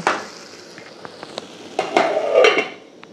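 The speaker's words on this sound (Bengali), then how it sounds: "এবারে আর একটু ঢাকনা দিয়ে দেব।" A metal lid goes onto a cooking pot of chicken gravy, giving a few clinks and taps before a louder scraping clatter of metal on metal, close and sharp, with no voices.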